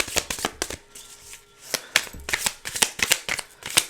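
Stiff Moon Baby Tarot cards are shuffled by hand up close, with crisp riffling bursts in an uneven rhythm and brief pauses between them.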